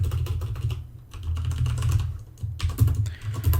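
Steady typing on a computer keyboard while writing Java code, with rapid clustered keystrokes and a brief pause partway through, close and clear, no talking.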